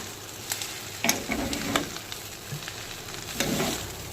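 Egg chicken chowmein stirred with Maggi masala in a pan, street-food style, with soft scraping stirs at an irregular rhythm over a quiet sizzle, close and fairly faint, no talking.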